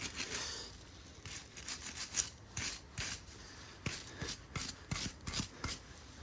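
A brush scrubbing the differential housing of a TR7 V8, heard as a run of short, rhythmic rasping strokes with brief pauses between them, close and clear with no talk.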